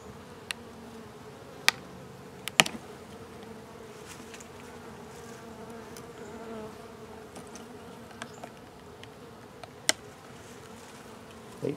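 Honey bees buzz steadily around an open hive during an inspection of a new Italian queen, a continuous close insect drone with a few sharp knocks and clicks from handling equipment.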